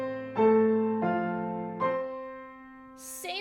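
Piano improvising on the hymn "Since I Have Been Redeemed", a melody played in thirds, with three separate struck chords ringing and decaying one after another, followed by a brief breathy noise at the end.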